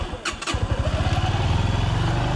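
A Minsk X250 motorcycle engine catches after a couple of sharp starting pops, then rattles into a fast, even, close-up rev with a strong throbbing pulse.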